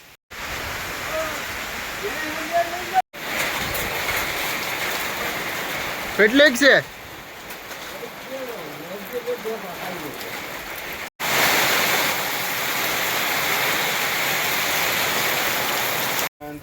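Heavy unseasonal rain pours down steadily in a rural Gir countryside setting, a dense continuous wash of drumming water with gusting wind, while someone talks over it now and then.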